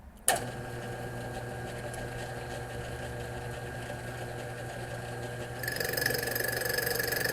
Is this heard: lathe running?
yes